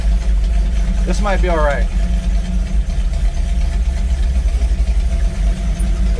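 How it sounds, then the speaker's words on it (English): A 1959 Napco truck engine idling roughly while running lean as if short of fuel, a loud steady low rumble throughout with someone speaking briefly over it early on. "It starts idling like this, it starts running good, and then it just slowly goes down and down and down, and then it tries to die"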